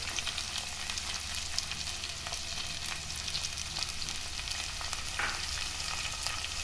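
Beans and carrots fry in a pan for vegetable pulao, a steady close sizzle with faint stirring scrapes running throughout, no voices.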